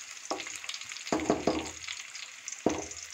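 Shallots sizzle and crackle frying in hot oil for tempering, with a few sharper bursts of spattering, heard up close and without any talking.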